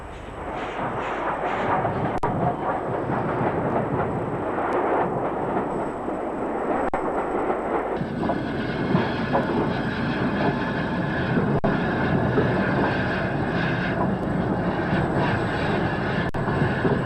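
A British 0-8-0 steam freight locomotive of a 1912 design arriving at a station, steady loud rumbling and chuffing with heavy clanking throughout and a shift in tone midway, no talk.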